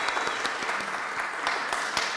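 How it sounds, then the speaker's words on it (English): Brief, brisk clapping from a small audience at a chamber music masterclass, distinct claps in a quick uneven patter, close and moderately loud. "And everybody clap."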